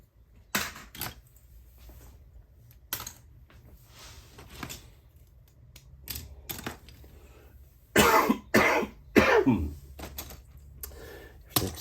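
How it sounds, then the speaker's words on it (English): Repeated coughing from someone with a dry throat from the cold, several separate bursts spread through the stretch, the strongest cluster near the end, close and fairly loud against a quiet indoor room with occasional small knocks. "Excuse the coughing, and my throat is so dry actually"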